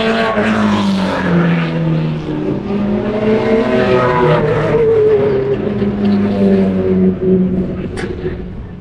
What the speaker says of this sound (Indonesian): Ini mobil balapnya.